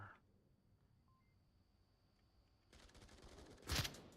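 Gunshots from the Onward VR shooter during a competitive team match: a quiet stretch, then a rising rattle of shots and one loud, sharp burst near the end, with no talk.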